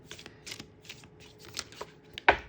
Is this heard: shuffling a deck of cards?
yes